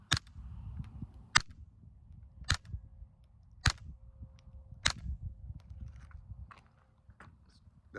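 Five standard-velocity .22 LR rounds fired from a Mauser M-15 rifle fitted with a Warrior Systems Legionary suppressor: sharp, quiet cracks spaced about a second apart, each followed by a soft mechanical click, over faint background rumble.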